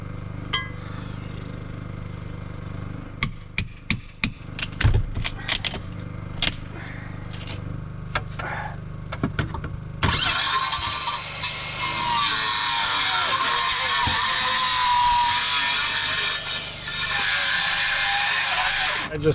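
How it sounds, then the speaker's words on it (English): A circular saw set to a deep blade depth cuts through a window flange on a cabin, a loud sustained whine and rasp that follows a stretch of scattered clicks, knocks and handling noises. "I just set this saw blade to a really deep depth and did some very unsafe maneuvers, but I got that top cut made"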